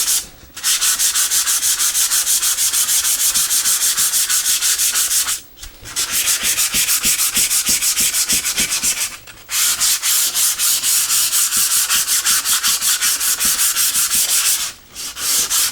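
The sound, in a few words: sanding the top of a board with 150-grit sandpaper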